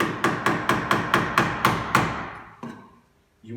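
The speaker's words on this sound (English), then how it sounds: "Nice and straight with the chisel." A hammer strikes a chisel carving a groove into a wooden spatula, eight sharp evenly spaced blows in quick rhythm, then a pause, one lighter tap and a final knock, close and loud with no talking.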